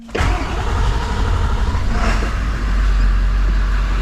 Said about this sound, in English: So as you can hear, the truck is running.